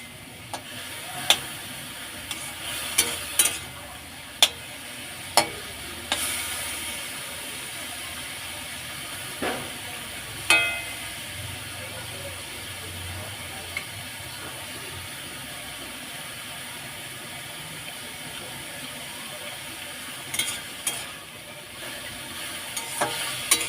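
Boiled radish greens (mulo shak) frying in a pan as the water cooks off: a continuous hissing sizzle broken by repeated sharp clicks and scrapes of stirring, close up, with no voices.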